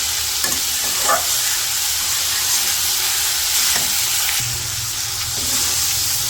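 Quail meat cooking with turmeric, chili, cumin, coriander, cinnamon powders, salt and water in a pan, giving a steady close sizzle and low hiss with a few soft stirring scrapes throughout.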